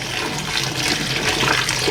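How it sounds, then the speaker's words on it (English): Water gushes steadily into a pot of cooked whole wheat spaghetti to rinse it, a dense continuous splashing pour heard close and alone. "I'm adding on some water to rinse out the pasta"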